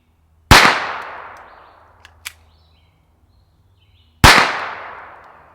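Two sharp, loud unsuppressed shots from a Walther P22 pistol firing CCI standard .22 rounds, spaced several seconds apart, each with a short ringing decay, with faint small clicks between.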